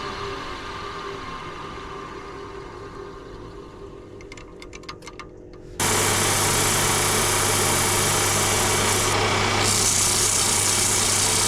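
A wooden snowman spins on a woodturning lathe under a low steady motor hum, then a loud, even abrasive roar of sanding starts abruptly and continues to the end, close and with no talk.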